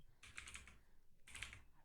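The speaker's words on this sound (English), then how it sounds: "Trying not to make too much noise with my clickety clacks" Two quick bursts of clicking on a computer keyboard, soft and close, with a short pause between them and no voices.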